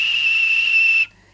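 A steady, high, piercing whistle from Percy the tank engine, held for about a second and then cut off sharply, heard alone against a faint low hum.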